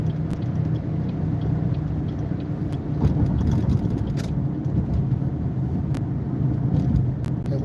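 A car drives and eases off toward a red light, a steady low engine and road rumble with light clicks, close and continuous under faint talk.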